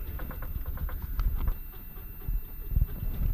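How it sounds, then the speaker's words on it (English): Wooden cabinets in a cruise ship cabin aboard the Carnival Miracle rattle and knock as the vessel moves, giving a steady patter of small close taps over a low rumbling hum, with no one talking. "What you're hearing is the sound of these cabinets shaking."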